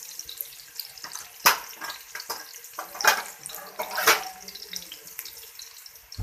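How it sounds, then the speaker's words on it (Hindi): Thinly sliced onion frying in a pan for black chana pulao, giving a steady close sizzle broken by sharp crackling spits, with a voice speaking over it. "प्याज को डाल दिया। प्याज को करेंगे फ्राई।"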